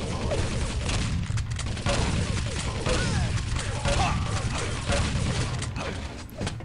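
Shotgun blasts in a Quake Live team deathmatch, dense and continuous amid other weapon fire and game mechanisms, with a commentator's voice running over the action throughout.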